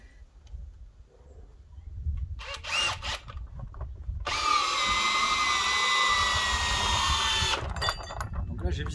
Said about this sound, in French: Donc on va faire un petit test de vissage